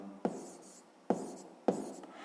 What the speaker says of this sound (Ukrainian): Записуємо.